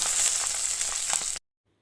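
Garlic frying in mustard oil with whole cumin: a close, steady crackling sizzle with a few small pops, running evenly and then cutting off abruptly into silence.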